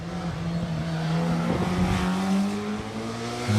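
A race car climbs the hill at Loton Park during a Midland hillclimb event, its engine holding a loud, steady harmonic drone with shifting pitch as it drives close by, with no voices.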